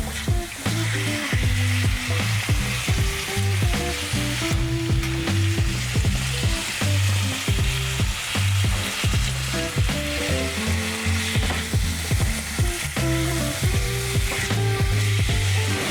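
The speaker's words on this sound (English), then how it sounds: "Throw a little bit of olive oil. Throw this in here. Oops. Just want to brown this up a little bit." Venison browning in olive oil in a pan before going into a slow cooker, a loud, dense, continuous sizzle close by with a steady low hum underneath and no talking.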